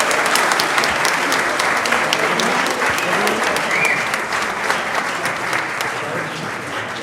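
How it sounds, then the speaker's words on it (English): Audience applause fills a city council meeting chamber, a steady dense clapping that stays loud throughout and eases slightly toward the end, with a few faint voices mixed in. "Let's clap for one more time."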